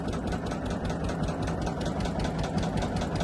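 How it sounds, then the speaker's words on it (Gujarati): A fishing boat's engine chugs steadily in reverse on a river, a continuous rough rumbling drone with a fast regular knock, loud and close throughout with no voices. "રિવર્સમાં ચાલે છે હમણાં તો બોટ."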